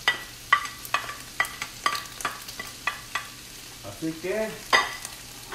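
Meat frying in a pan with onion and garlic is stirred, giving a string of regular utensil scrapes and clicks over a soft sizzle, with a short burst of bubbling near the end.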